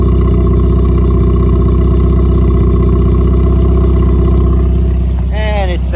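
A 1980 Triumph Spitfire's 1500cc engine idles steadily through its single exhaust, a loud, continuous low rumble that fills the whole stretch, with a brief whistle-like sweep near the end.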